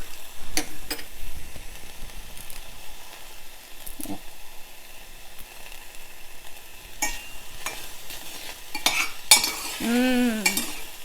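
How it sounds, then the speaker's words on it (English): Curry leaves drop into browning onions in a pan on an Indian home stove, giving soft sizzling with scattered clicks of stirring and a brief sharper crackle near the end, fairly quiet. "so I am going to now add kadhi patta leaves"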